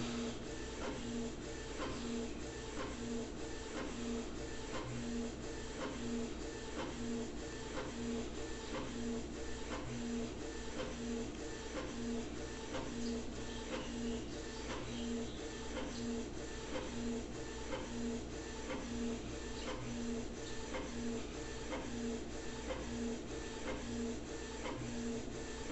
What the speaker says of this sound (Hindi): मैं अपने चैनल का लोगो प्रिंट कर रहा हूं कंप्लीट A4 साइज पेपर में।